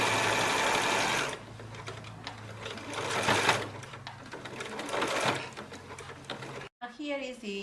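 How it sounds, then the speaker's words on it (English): A sewing machine zigzag stitches elastic onto doll bloomers, whirring steadily and close at first, then in quieter rattling runs. A voice speaks briefly at the end. "you have to overlap the elastic and keep sewing in zigzag"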